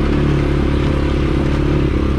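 A CFMOTO CForce 400 ATV engine runs loud and close with a low, labored drone, sounding bogged down at low RPM with some mechanical clatter and no clear revving.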